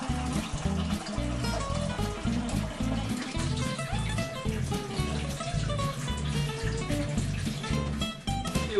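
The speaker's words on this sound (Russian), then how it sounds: "Я знаю, что в этом сосуде литр воды, поэтому наливаем." Tap water pours steadily into a one-litre vessel for making brine, a continuous broad splashing rush with no talk over it.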